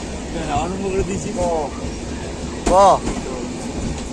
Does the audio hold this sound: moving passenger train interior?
yes